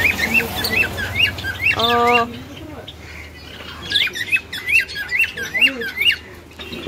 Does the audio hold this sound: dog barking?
no